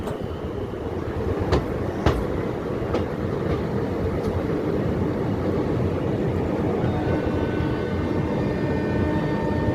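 The Gaya Howrah Express pulls into a platform at Bandel station with a loud, continuous rolling rumble and low mechanical roar, a few sharp clanks early on and a faint high whine toward the end.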